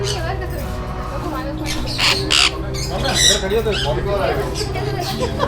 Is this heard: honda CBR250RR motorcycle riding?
no